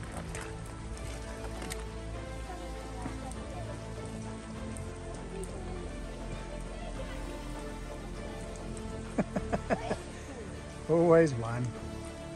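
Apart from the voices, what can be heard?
rain on a rainy day on New Zealand's West Coast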